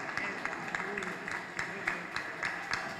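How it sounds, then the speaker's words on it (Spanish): Audience applause at a gathering with elderly residents of a care home, scattered sparse clapping heard faintly under a steady background hum and some voices. "Un aplauso para eso ahí."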